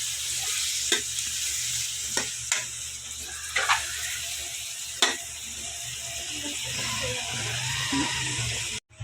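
Chicken liver for adobo stir-frying in a pan, with a steady close sizzle throughout and a few sharp scraping clicks as it is stirred, no voices.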